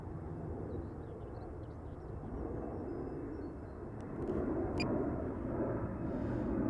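A DJI Mini 3 Pro drone flies low over riverside sand, its steady broadband whir holding through the clip and swelling slightly louder toward the end, with no talking.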